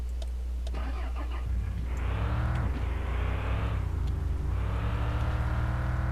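A lifted car's engine in the video game Mon Bazou drives off-road across someone's property, a steady mid-pitched drone that swells into repeated revving climbs and eases back between them. No voices are heard.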